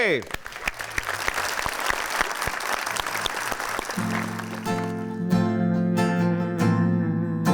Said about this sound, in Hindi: मामून के लिए तालियां